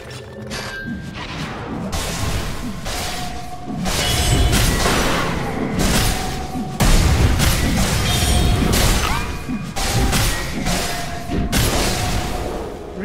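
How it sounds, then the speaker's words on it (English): Dota 2 match at The International with Radiant's middle tower under attack: dense layered game combat of clangs, booms and crashing impacts with chiming tones, loud and continuous throughout. "Radiant's middle tower is under attack."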